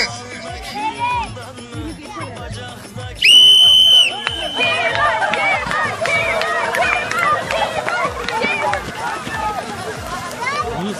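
A sharp referee whistle blast sounds once, about a second long, to start a foot race at a village food-festival gathering in Çankırı, Turkey, over a lively crowd of chatter, shouting and running footsteps.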